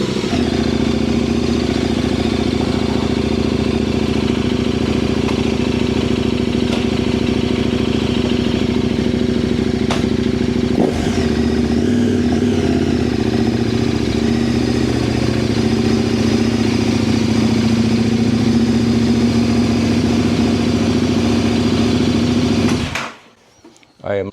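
A new motorcycle engine runs at a steady idle with a strong mid-pitched hum and a brief rev near the middle, then cuts off abruptly to near silence at the end.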